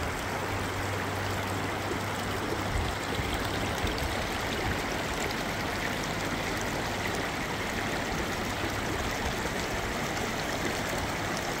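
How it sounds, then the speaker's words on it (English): Water of a mountain stream rushes and burbles steadily over rocks in a continuous, full stream, loud and close, with no voices. "So go sit by that mountain stream."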